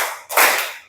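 A single sharp hand clap rings out close and alone during a counting clap game.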